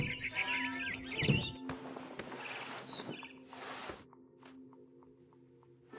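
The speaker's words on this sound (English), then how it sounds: "Then I heard chirping outside my window. It was a barn swallow going back to her nest." A barn swallow chirps outside a window in the video game What Remains of Edith Finch. Quick, high tweets and short calls come in scattered bursts over soft rustling and ambient game sound, then thin out toward the end.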